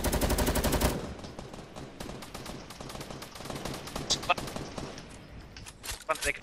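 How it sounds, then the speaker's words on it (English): Gunfire in a video game, opening with a loud sustained machine-gun burst and then continuing with sporadic rapid bursts and single shots at varying distances, with voices talking over the shooting. "Mate, can you stop shooting, man?"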